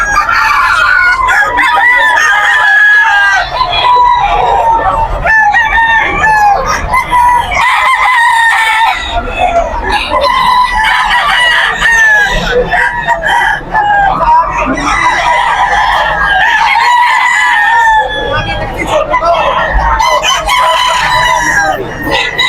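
Many roosters crow continuously and loudly at the Bocaue pet market, their calls overlapping with clucking amid a noisy, busy crowd.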